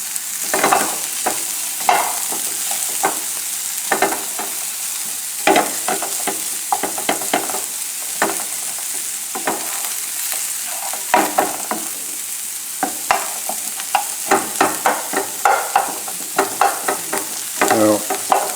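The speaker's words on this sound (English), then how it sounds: "put some butter in there. And this has to crisp up a little bit like bacon." Prosciutto ham and onions fry in butter in a pan, a steady close sizzle broken by frequent scraping stirs and spatters throughout, with no talk.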